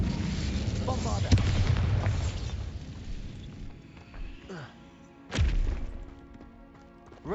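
Bombarda blast spell in a Harry Potter video game: two sharp booming explosions, one early and a stronger one about two-thirds in, set against game music and voiced chatter.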